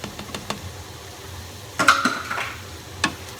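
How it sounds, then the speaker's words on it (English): Butter and flour roux stirred in a pot, a spoon clinking and scraping the metal in a few sharp knocks, with a brief louder scrape near the middle, close-up and alone. "we're going to stir that for a couple minutes, just continually stirring"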